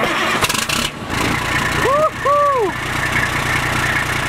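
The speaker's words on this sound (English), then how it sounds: "here goes the very first startup just for you guys" A straight-piped fire truck engine cranks and catches, roaring up loudly nearby, with a brief whooping voice-like rise over the rumble.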